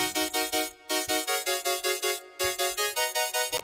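A bright synth lead plays a rhythmic pattern of short, punchy notes with a hiss of white noise layered on top, full and steady, with a brief gap mid-phrase.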